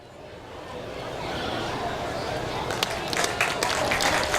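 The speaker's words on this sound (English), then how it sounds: "Colton Cross gets a round of applause as he exits" Crowd at a Pioneer League all-star baseball game applauds a pitcher leaving the field, the clapping building steadily from faint to a full, sustained round of applause in an open ballpark.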